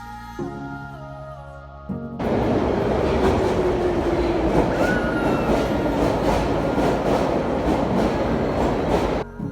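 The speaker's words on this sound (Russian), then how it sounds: "Нам удалось прокатиться в поезде-музее о истории Новониколаевска-Новосибирска" A museum train in Novosibirsk rolls along steadily after a brief quieter start, with a continuous loud rumble, rattling and a faint squeal of wheels on rails.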